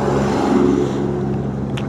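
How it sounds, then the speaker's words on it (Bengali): Car approaching on a rural road between rice paddy fields and forest in Bengal, heard from a motorcycle: a steady, fairly loud engine and road rumble that continues throughout, with no clear rise as it nears. "যে গাড়ি আসছে"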